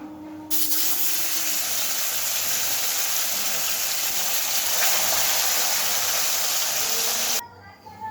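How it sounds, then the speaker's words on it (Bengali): Koi fish fry in hot oil with a loud, steady, close sizzle that holds for several seconds before cutting off abruptly near the end. "এইভাবে বাকি মাছগুলো আমি ভেজে নেব"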